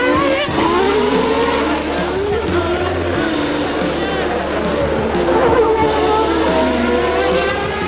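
Formula 1 race cars brake hard into the harbour chicane at Monaco, engines screaming and downshifting with sweeping pitch changes and tyre noise, loud and continuous under a commentator's voice.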